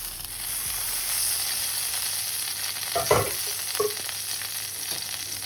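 Asparagus sizzles steadily in a hot pan with the lid off, a continuous close frying hiss with a few louder crackles and stirring scrapes around the middle, no voices.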